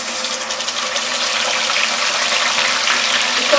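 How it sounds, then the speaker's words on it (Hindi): Two medium-sized blended onions go into half a cup of hot oil in a kadhai, giving a steady loud hiss and sizzle that stays even throughout, with no voices. "कढ़ाई में हमने हाफ कप ऑयल गर्म किया है, इसमें हम 2 मीडियम साइज की ब्लेंड की हुई प्याज डालेंगे"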